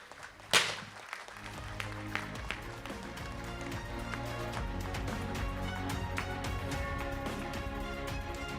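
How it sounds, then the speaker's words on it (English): Applause from a conference audience at an APAC-US business event begins after a sharp thump, building into sustained clapping mixed with music-like tones and background sounds. "Shall we give them a big round of applause?"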